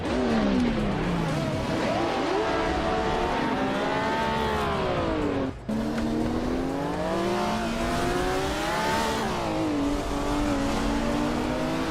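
Race cars roar and rev continuously at the Nürburgring Sprint GP track in an AI racing game, engines rising and falling through gear changes, loud and close, with a brief cut midway and no talk.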